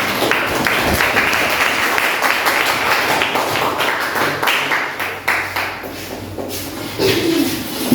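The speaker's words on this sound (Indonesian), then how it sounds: "Berikan tepuk tangan untuk kelompok." Classroom of students in a teaching-practice lesson applauds a presenting group, dense continuous clapping close by that thins toward the end, with faint voices underneath.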